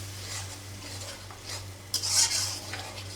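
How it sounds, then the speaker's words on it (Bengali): Prawns being sautéed with spices in a pan, giving soft stirring and scraping of a utensil against the pan with a light sizzle, steady and close, with a brief sharper clatter midway and no talking. "চিংড়ি মাছ দিয়ে মশলা দিয়ে একসঙ্গে কষানো হচ্ছে।"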